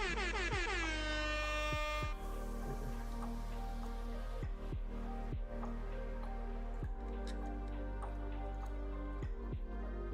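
A loud, blaring air horn sounds continuously for about ten seconds, a single sustained harsh tone with a few faint taps and drips underneath.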